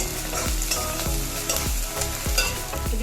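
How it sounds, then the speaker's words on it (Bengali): Spice paste of ginger, salt, turmeric and chili powder with a splash of water fried in a pan, loud steady sizzling with a spoon scraping and stirring in a regular rhythm about every half second, no voices. "একটু জল দিয়ে আমি মশলাটা কষিয়ে নিচ্ছি।"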